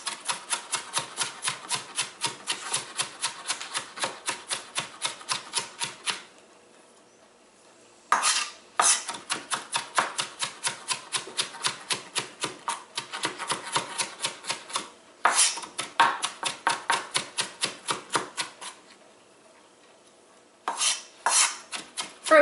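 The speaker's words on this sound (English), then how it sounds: "going to chop it very thinly into tiny pieces" A knife chops a chunk of ginger into tiny pieces on a cutting board, a fast, steady run of close, crisp taps in several bursts separated by short pauses.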